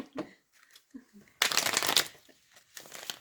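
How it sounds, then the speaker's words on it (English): A deck of tarot cards is shuffled by hand, giving a sharp riffling burst in the middle and a shorter rustle near the end, preceded by a few soft handling noises, close and clear with no talking. "So, one more shuffle."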